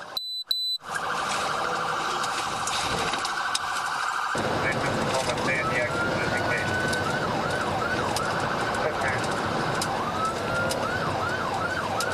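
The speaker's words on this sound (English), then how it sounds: "Speeds climb, sirens scream." Police sirens wail continuously during a high-speed chase of a stolen car on Interstate 5, a steady loud tone shifting into rising and falling yelp cycles over heavy road and engine noise.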